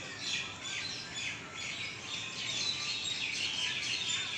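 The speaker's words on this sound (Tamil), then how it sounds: "இப்போ பாருங்கள், மைனாக்களுக்கெல்லாம் பாட்டு போட்டி நடக்கிற மாதிரி இங்கே பாருங்கள், எல்லாம் கூட்டமாக உட்காந்து கத்திக்கிட்டு இருக்கு." A flock of myna birds in a tree after rain, calling together in a dense, continuous chatter of chirps and squawks, fairly near and steady, with no talking.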